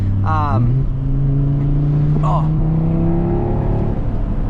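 An Audi R8 sports car engine revs up loudly, its pitch climbing and holding in a steady drone, with brief bursts of voice over the start and middle.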